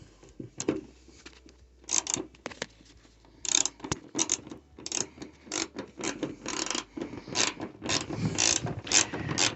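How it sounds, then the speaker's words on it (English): A ratchet drives a number 10 socket to loosen a bolt beside the tire of a Dodge Charger, giving repeated bursts of close, sharp clicking and ratcheting with short pauses between strokes. "using a number 10 socket, we need to remove this bolt which is right next to the tire"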